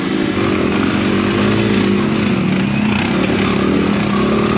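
An XR motorcycle engine revving hard and continuously in snowy woods, a loud, buzzy, close drone that holds steady throughout with no talking.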